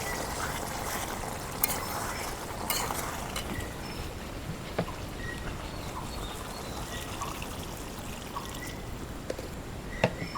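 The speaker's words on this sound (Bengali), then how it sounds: "এখন আমি ঝোলের পানি দিই।" Water pours steadily into a pot of chicken curry, a continuous trickling splash with a few small clinks, close by and without talk.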